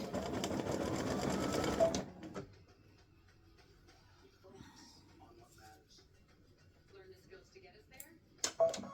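An embroidery machine stitching an in-the-hoop mug rug runs loudly with a fast buzzing whir for about two seconds, then stops, leaving quiet handling noises and a brief restart at the end.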